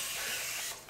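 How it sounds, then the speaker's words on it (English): Color Wow Dream Coat hair spray hisses from a pump bottle in one continuous close burst onto dry hair, tapering off at the end. "liberally spray each section and comb through it"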